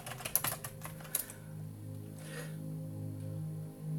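Quick typing on a computer keyboard, a brisk cluster of clicking keystrokes up close for about a second, then a quiet hum.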